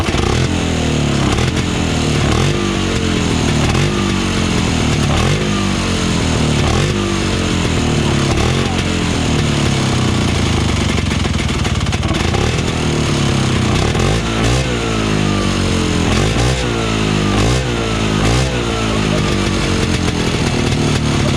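A vintage Johnson snowmobile engine revved over and over, its raspy two-stroke buzz rising and falling in quick repeated bursts, loud and close throughout.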